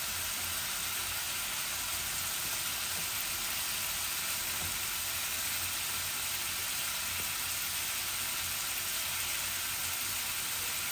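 Onions sizzle and fry steadily in hot oil in a pan for a meat and potato curry, a loud, even crackle that runs unbroken with no voices over it.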